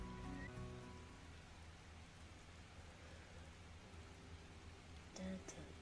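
Steady rain falls in the video game Final Fantasy XIV, a soft, even hiss of drops on surfaces carrying on throughout, quiet and unbroken, with faint tonal game sounds near the start and end.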